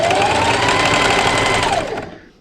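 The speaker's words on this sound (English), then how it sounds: "I'm going to backstitch" A sewing machine backstitches the seam of a fabric book or tablet sleeve, a loud, fast continuous whir that winds down and stops at the end.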